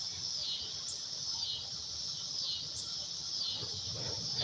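Crickets chirp in a steady high-pitched trill that swells and fades in slow waves over a faint background hiss.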